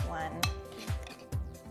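Two teaspoons of baking powder tipped into a bowl for an almond cake, heard as three sharp metallic clinks of a measuring spoon against the bowl, roughly half a second apart, close and clear over low kitchen rumble.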